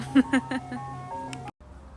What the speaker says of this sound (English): You can hear an ice cream truck.